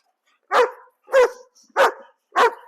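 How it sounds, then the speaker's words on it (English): A dog gives four sharp, evenly spaced barks, close and clear, with silence between them. "He can bark for a little bit if he wants to."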